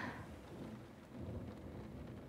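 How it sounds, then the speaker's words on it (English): Thunderstorm at night with steady rain pattering and low rumbling thunder rolling underneath, a continuous moderate wash of sound with no voices. "Is the storm keeping you up?"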